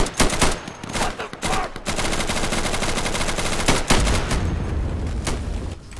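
A heavy firefight in the Insurgency video game, with rapid automatic bursts and single shots overlapping almost without pause, loud and close, and no talking.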